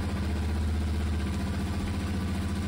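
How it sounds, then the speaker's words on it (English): A Yamaha Tenere 700 motorcycle idles at close range during an oil and filter service, giving a steady, even engine drone with no talk. "So start the engine up"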